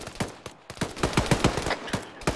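A DShK heavy machine gun fires in a video game, a rapid run of close, punchy shots in quick uneven bursts with short gaps, sharp and loud, with no talking.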